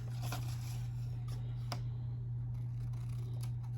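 Scissors snip at an angle through the corners of a homemade Dollar Tree list cover, a few short crisp cuts close by over a steady low electrical hum.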